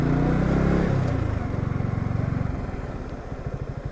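Motorcycles on a group tour to Sajek Valley idle at a stop after a steep climb, a loud engine rumble settling into a steady low putter that pulses rhythmically and gradually quietens.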